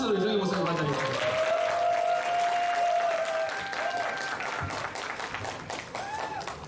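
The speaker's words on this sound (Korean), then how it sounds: "자, 이제 큰 박수로 이정희 목사님 맞이하겠습니다" Applause from a lecture audience greets a pastor arriving for a special talk at a seminary's opening-week event, clapping running steadily under a speaking voice and a tonal sound, then easing slightly toward the end.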